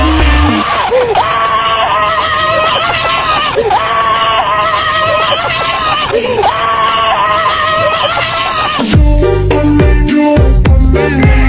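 A person screaming loudly and repeatedly in long, strained bursts with a rhythmic pattern, ending in a harsh, noisy outburst.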